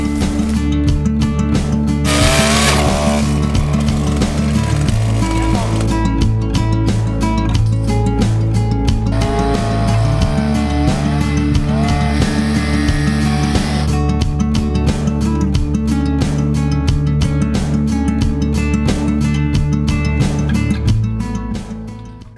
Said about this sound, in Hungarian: Ezzel lehet előfúrni, ezzel a vastagabba pedig kifúrjuk azt a lukat